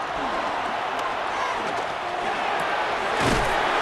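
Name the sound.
football stadium crowd noise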